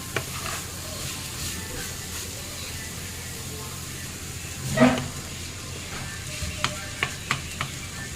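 A Kerala-style banana flower thoran is stirred in a pan, giving a low steady sizzle with soft scrapes and a few sharp taps of the spoon against the pan.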